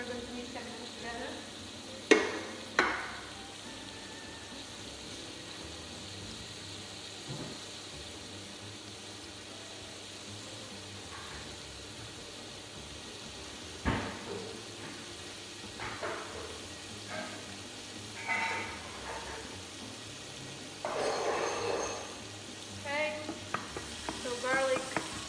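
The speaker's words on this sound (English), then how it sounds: "Use a spoon just to let the garlic fry a bit." Garlic fries quietly in olive oil while a spoon stirs it, a soft continuous sizzle broken by occasional clinks and scrapes of the spoon against the pan.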